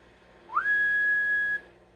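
A single steady whistled tone into an RCI 99n4 radio microphone, swooping up briefly then held flat for about a second, loud and close, with a faint electronic hum behind.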